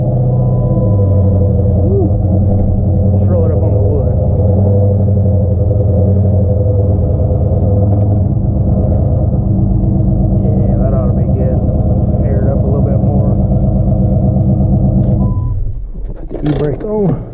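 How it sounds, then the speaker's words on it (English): A Dodge Charger's engine idles after a cold start, a loud steady low rumble with harmonic drone that runs for about fifteen seconds before cutting off abruptly near the end. "This is a cold start too,"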